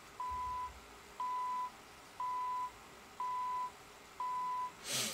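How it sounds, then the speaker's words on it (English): A clock radio alarm set to grow progressively louder emits five even half-second beeps at a steady one-second rhythm, moderately loud and clear, ending with a brief rustle. "I think this one is supposed to get progressively louder, so we'll see."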